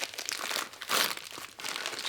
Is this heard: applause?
no